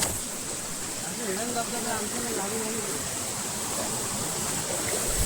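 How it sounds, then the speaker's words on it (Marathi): A small hidden waterfall in Devrukh, India, rushes steadily nearby, a constant broad splashing roar, with faint voices murmuring underneath. "छोटासा तुम्हाला मी धबधबा दाखवतो"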